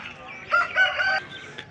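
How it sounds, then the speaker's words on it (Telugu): A rooster at the Vijayawada rooster market gives one clear, fairly close crow lasting under a second, with faint market noise around it. "చూడొచ్చు ఇవన్నీ కూడా కోడిపుంజులు"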